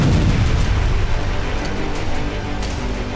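A powerful explosion from an anti-tank missile striking a Russian multiple rocket launcher, heard as a dense, loud rumbling roar with crackling bursts that fills the whole moment, no voices present.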